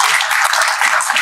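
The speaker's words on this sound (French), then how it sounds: "Beaucoup d'applaudissements pour l'ordonnance qui vaut pour tous les Vaudais." A short burst of crowd applause at a 2020 municipal campaign launch evening, bright and loud clapping with no voices over it.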